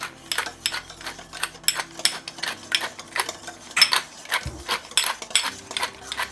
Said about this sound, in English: Take the whisk and go wham, wham, wham on the yolks that aren't already cracked and broken.